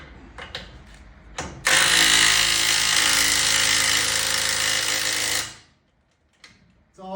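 A Dewalt 20V impact driver hammers a fastener tight, a loud sustained rattling burst of about four seconds after a few small clicks and handling sounds, then stopping abruptly into near silence.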